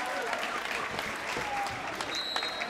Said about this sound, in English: We even have a cheer for one of the staffers who is wiping up a wet spot.